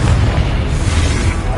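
A deep, rumbling blast from the Confringo spell in Hogwarts Legacy fills the space, a loud sustained boom with heavy low-end roar and no talking over it.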